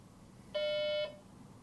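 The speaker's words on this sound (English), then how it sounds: "the device lets out a sudden beep, then another" A single sharp electronic beep from a small device sounds for about half a second, clear and tonal over a quiet room hush in an abandoned building.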